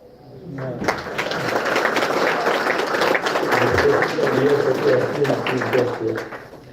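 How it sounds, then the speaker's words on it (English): Audience applause for the chief guest at an inauguration event, a sustained round of clapping from a sizeable crowd lasting several seconds, with voices mixed in. "I think we will not be miser on the claps."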